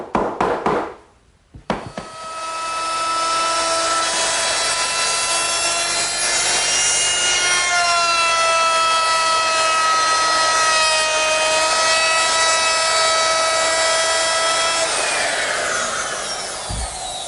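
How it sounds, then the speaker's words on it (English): Router fitted with a 1/2-inch radius round-over bit shaping the top edges of a wooden Shaker wash stand, a sustained high whine that holds steady for about fifteen seconds before spinning down. "round over all the top edges"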